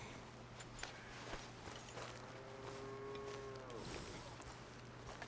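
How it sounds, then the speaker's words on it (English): Cattle lowing in the open-world game Red Dead Redemption 2, with one drawn-out moo near the middle over a steady low ambient hum and faint scattered footsteps, no talking. "Got cows and chickens."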